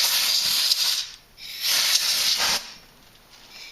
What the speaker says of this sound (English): I have compressed air, and I'm going to blow out the groove to get any debris out